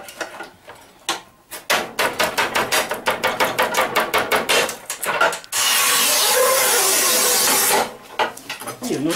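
A manual Sigma series 4 NEX tile cutter scores and snaps a tile: a fast run of sharp rhythmic clicks and knocks, then a loud steady hissing scrape for a couple of seconds, followed by a few closing clacks, near and prominent.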